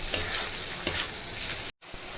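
Spices sizzle and fry in a pan on medium-low heat for a mixed tadka, with a steady hiss, a few scraping stirs and one brief dropout, and no talk.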